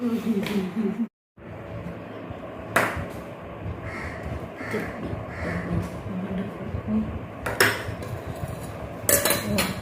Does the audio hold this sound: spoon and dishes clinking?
yes